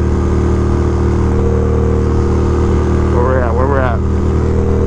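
Harley-Davidson Dyna Low Rider motorcycle with a Dynojet Power Commander installed, revving hard at speed on a highway, a loud continuous engine roar near the rider with wind buffeting and a brief voice partway through.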